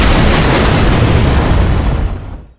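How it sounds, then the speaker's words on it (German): A bomb exploding in the video game Keep Talking and Nobody Explodes, one loud deep boom that fills the clip and then fades out over about two seconds. "Wir sind explodiert."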